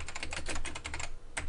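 Rapid typing on a computer keyboard, a dense run of close, crisp key clicks with a brief pause near the end before a few more strokes.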